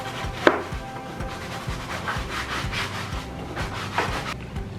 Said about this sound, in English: I'm just gonna use a Lysol wipe